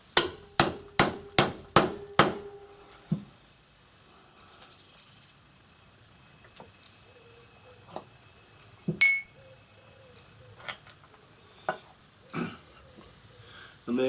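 A hammer taps a bullet into a Lee Loader reloading die: five sharp, evenly spaced metallic clinks open the clip, followed by sparse, quieter knocks and clinks of handling.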